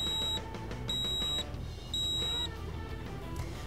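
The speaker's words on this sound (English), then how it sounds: "you're going to hear those three beeps to let you know it's ready" Three evenly spaced electronic beeps from a Handpresso Auto espresso maker ring out over a low mechanical hum, each bright and clear, close by.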